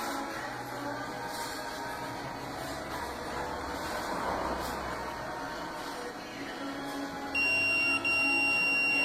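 A sewing machine beeps while it programs, a steady electronic tone that switches to a brighter, louder beep near the end over faint background hum.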